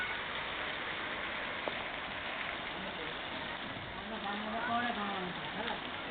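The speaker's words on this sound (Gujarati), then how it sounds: "આ તરફ દાહોદમાં પણ વરસાદનું આગમન થયું છે।" Rain falling in Dahod, a soft, steady wash of drops in a muffled, narrow-band recording, with faint background sounds and brief tonal noises near the end.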